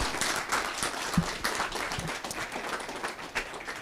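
Audience applause at an HR conclave hosted by a university of information technology: dense, steady clapping from a sizeable crowd fills the whole stretch at moderate volume, with no voices over it.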